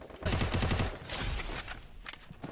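Rapid bursts of automatic gunfire crackle in a video game, a dense fusillade followed by a few scattered shots, moderately loud.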